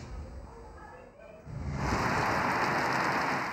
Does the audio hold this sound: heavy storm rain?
yes